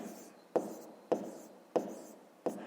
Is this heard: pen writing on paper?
yes